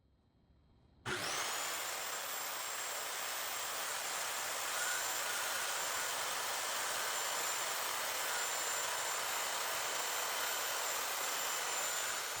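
A power saw starts abruptly and makes a straight cut through a wooden board for a tissue box, giving a loud steady high whining roar that holds for the length of the cut, with no talking.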